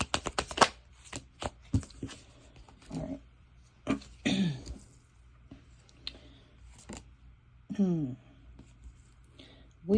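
Starseed oracle card deck being shuffled, with crisp riffling and rustling bursts spread through the stretch between quiet gaps, alongside soft handling clicks and brief vocal sounds.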